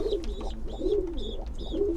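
Pigeons cooing at close range in a loft, soft repeated throaty coos in a steady rhythm, with faint background chirps and no talking.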